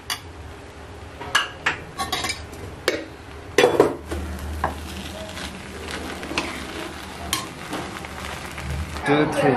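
Biryani cooks in a pot the traditional way: utensils clatter and scrape with a steady sizzle of frying underneath. Metallic clinks and stirring knocks come at irregular intervals throughout, close by.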